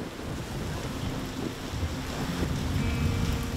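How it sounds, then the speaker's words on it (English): Powerful storm lashing a small island at night, with steady heavy rain and a continuous low rumble of wind and thunder, loud and close throughout with no voices. "the island is struck by a powerful storm"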